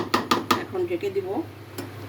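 Lid going onto a pot of fish and eggplant curry: three quick metallic clinks close up, then softer rattling and a faint clatter, with a steady hum underneath.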